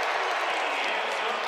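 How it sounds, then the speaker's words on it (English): Syracuse Orange basketball fans clapping and cheering after their team's first field goal, a dense, loud, continuous roar of crowd applause filling the arena. "They stand and clap until the first field goal of each half."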